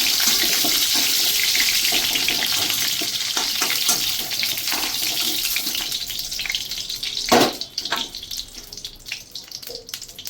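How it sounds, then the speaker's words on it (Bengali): Cauliflower frying in oil in a pan, a loud continuous hissing sizzle close by with stirring clatters and a sharp clank near the end. It fades slightly as the frying settles, and no one speaks. "ফুলকপিটা আমি একটু ভেজে নেবো ভালো করে"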